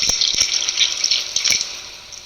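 Milk and a whole egg poured into a mixer bowl, a close, continuous splashing trickle with a few soft drips over about two seconds, no talking.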